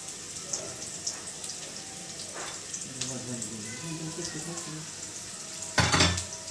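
Ground spices, ginger paste, garlic paste, cumin, cardamom and dried chilli powder sizzling in hot oil, a steady soft frying crackle with stirring scrapes and a louder burst of sizzle near the end, a voice talking quietly underneath.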